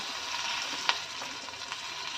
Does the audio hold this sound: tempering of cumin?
yes